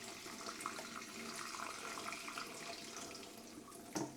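Water runs steadily through an aquarium media reactor, a continuous close splashing trickle like a tap filling a sink, with a brief louder gurgle near the end.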